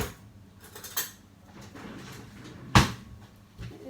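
Metal cutlery clatters inside a kitchen drawer while a big spoon is fetched for measuring butter for scones, with two sharp jangles against a quiet background.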